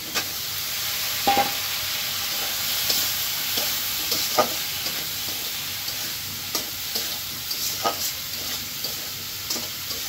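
Steady sizzling of potatoes and tomatoes sautéing in a pan, with scattered scraping and stirring clicks from a utensil, close and fairly loud with no talking.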